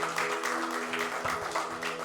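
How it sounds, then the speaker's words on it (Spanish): Church congregation applauding the Lord, a sustained patter of many hands clapping together with an organ or keyboard chord held underneath. "¿Puede darle un aplauso al Señor, hermanos?"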